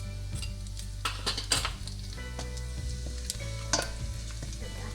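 Cumin seeds crackle and sizzle in hot oil with mustard seeds, with busy popping and a few sharp clinks of a utensil against the pan over a low steady hum.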